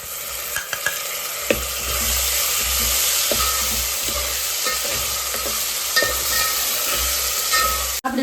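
Brinjal olo with ginger and tomato is stirred in a sizzling pan: a steady, close frying hiss with repeated spoon scrapes and knocks against the pan.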